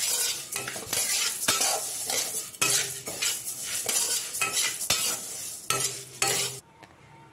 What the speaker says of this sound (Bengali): এখানে ডাল ভাজা হচ্ছে